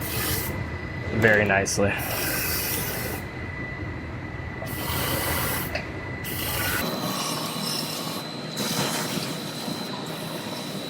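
A 360-degree spray wand coats the inside of a Ford F-150 truck frame in a body shop, giving rough hissing, rasping bursts that start and stop, with a brief spoken remark.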